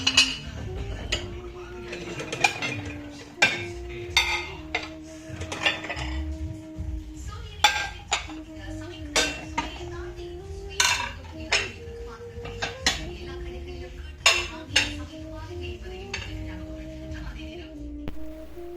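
Glass bowls and plates handled for dinner in a home kitchen, repeated clinks and clatters of dishware knocking together at an uneven rhythm, close by, with a faint voice underneath.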